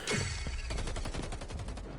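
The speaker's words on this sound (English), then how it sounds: "Grenades going out. Gunfire exchange." Rapid video game gunfire exchange, dense overlapping bursts and shots rattling continuously for two seconds, heard faintly with no talk.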